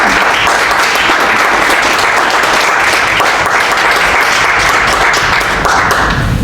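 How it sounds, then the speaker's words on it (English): Loud, sustained audience applause at a Toronto film festival screening, a dense, even roar of many hands clapping with no break and little talk. "another round of applause for American Mirror."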